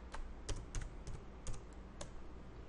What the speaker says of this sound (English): press and hold the Alt key and then type